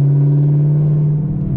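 A Chevrolet Camaro ZL1/SS engine with paddle shifters, heard as a loud, steady low rumble from inside the car as it downshifts, with a slight wobble near the end.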